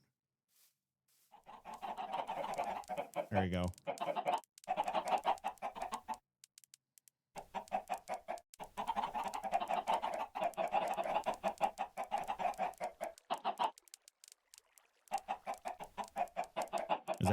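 A crowd of Minecraft chickens clucks and squawks in a dense, continuous chatter that breaks off in a few brief gaps, with a short spoken remark near the start.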